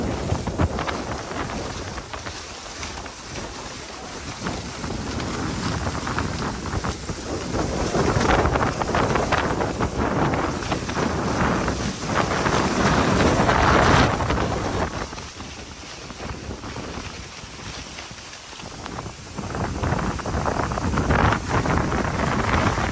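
Powerful whirlwind wind on a hillside farm roars and buffets continuously, rising and falling in strong gusts with heavy blustery rushing throughout.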